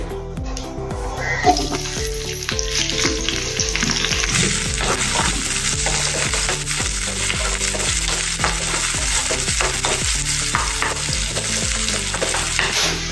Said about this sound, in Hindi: अभी इसी में हम तेल डालेंगे यही बर्तन में और प्याज को भून लेंगे